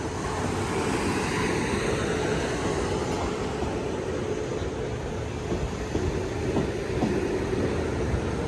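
A Class 450 electric train arrives at Liss station beside a level crossing, giving a loud, continuous rumble and rushing roar close by that stays steady throughout, with faint squeals rising over the drone.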